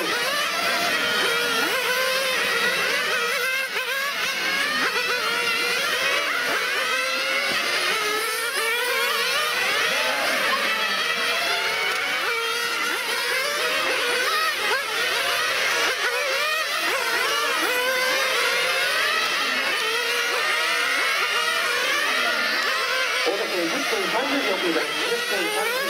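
Kyosho 1/8 scale GP nitro RC cars racing in a twenty-minute grand final, their high-pitched engines whining and revving continuously in layered, overlapping passes, loud and constant beneath a race commentator talking throughout.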